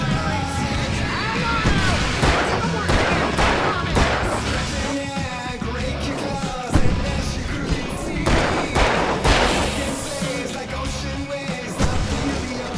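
Gunfire in the video game Alan Wake comes as dense, rapid bursts of shots and booms that crowd the whole stretch, with some yelling mixed in.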